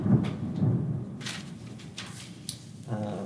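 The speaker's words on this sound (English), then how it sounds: "Wow, some storm." Thunder rumbles outside during a storm, low rolling booms near the start with patches of rain hiss, heard indoors from a distance with some faint room noise.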